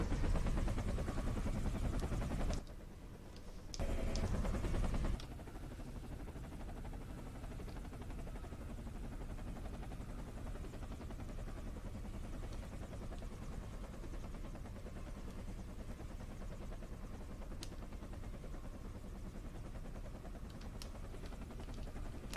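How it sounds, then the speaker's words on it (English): Helicopter flying in a game, a loud steady rotor and engine drone that continues throughout, with a brief drop in level near the start before the roar resumes. "I could see myself having fun with this helicopter"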